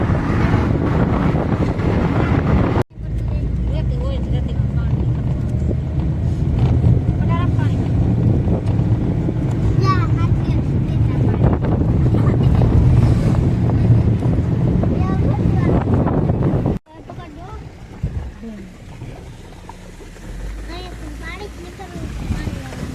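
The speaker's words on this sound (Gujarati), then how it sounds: "પવન બહુ આવે છે" Strong wind buffeting the microphone on a river boat trip, a loud, constant roar with engine and water noise underneath, people talking over it and a couple of abrupt cuts.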